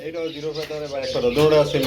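Pigeons cooing close by in a bird seller's collection, soft rolling coos repeating over a voice, with faint chirps from other birds in the background.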